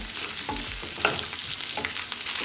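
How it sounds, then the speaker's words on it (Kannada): Chopped onions fry in a pan over high heat, giving a loud steady sizzle with a few stirring scrapes layered on top. "ಈರುಳ್ಳಿ ಎಲ್ಲ ಹುರಿತಾ ಹುರಿತಾ ಎಲ್ಲ ಕೆಸಳು ಬಿಚ್ಕೊತಾ ಹೋಗ್ತವೆ"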